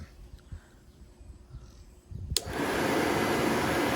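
An old car air-conditioner blower fan, powered by a 12-volt lithium iron phosphate battery, switches on abruptly with a click and then runs as a steady, loud whooshing whir after a quiet stretch.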